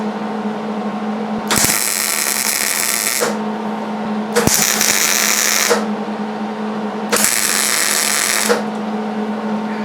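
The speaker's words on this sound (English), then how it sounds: "Here's the setup to weld this on here." Welding onto the top of channel lock pliers: three long bursts of loud, harsh electric buzzing and crackling, each a couple of seconds long, separated by a steady lower hum.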